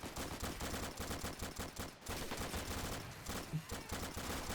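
Dense, sustained gunfire rattles through a video game battle as a large force lays down heavy fire, with rapid overlapping bursts and barely a pause, loud and continuous.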